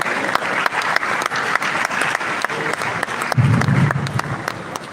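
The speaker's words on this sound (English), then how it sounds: "a round of applause again for that amazing speech from her" Sustained applause from a seated audience follows a speech at the opening ceremony of a Nutrition Society of Nigeria conference, with dense, steady clapping filling the hall and swelling slightly near the end.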